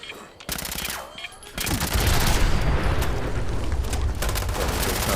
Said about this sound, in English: You see him just shooting through everything.